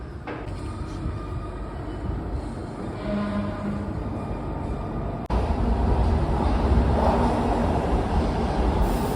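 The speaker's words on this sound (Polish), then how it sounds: "A tu wjeżdżamy na stację metra Hollywood Vine." Metro train rumbles into Hollywood/Vine station in Los Angeles, a loud steady roar and rattle of wheels with a brief tonal whine, jumping louder partway through as the train moves on.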